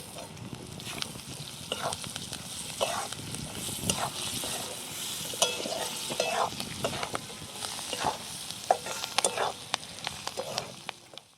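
Spices, turmeric and onion fry in a pan for jhunka, a moderate sizzle under frequent scraping and stirring clatter close by, with no talking.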